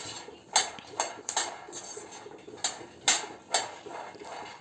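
Almonds roasting dry in a pan for chikki give off sharp, scattered crackling pops, about eight distinct snaps spread irregularly over a quiet background with no talking.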